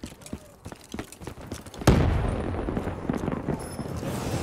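Sudden heavy boom of a Hellstorm missile strike in Call of Duty: Black Ops III multiplayer, following scattered gunfire, then a long loud rumbling tail that fills the rest of the stretch.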